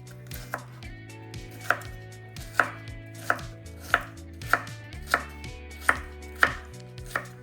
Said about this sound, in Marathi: आता याचे आपण बारीक बारीक तुकडे करून घेऊ